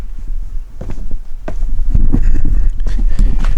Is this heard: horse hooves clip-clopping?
yes